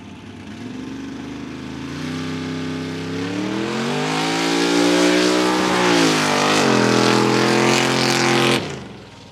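A drag race car with a 532 big block Ford engine, dual carburetors and velocity stacks revs loud and close at a mud drag event, its pitch climbing, holding high, then cutting off sharply near the end.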